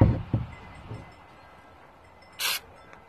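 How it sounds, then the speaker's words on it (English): Flex Seal is sprayed from an aerosol can onto a crack in a pond liner in one short, bright hiss of about a quarter second, following a few soft handling knocks. "Now we're going to give it a spray."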